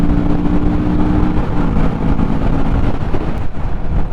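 Kawasaki Vulcan S cruiser motorcycle engine droning steadily while riding, loud and close, with heavy wind rush over the microphone throughout.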